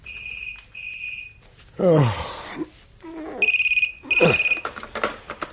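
Telephone ringing in a radio drama at 2 a.m., heard as repeated electronic trills in separate bursts, broken by rustling and handling sounds as the receiver is picked up.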